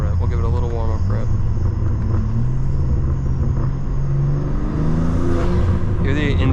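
A BMW G87 M2 with aftermarket intakes rumbles at idle, then gives a short warm-up rev toward the end, close by, with people talking over the engine throughout.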